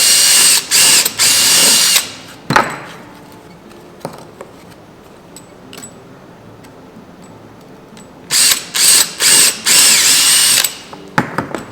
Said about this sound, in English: just drill the hole